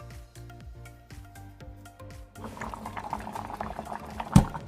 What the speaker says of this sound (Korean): 냄비에 끓는 물 1리터와 실리콘 찜시트를 넣고 계란물을 담은 사각 용기를 올려줍니다.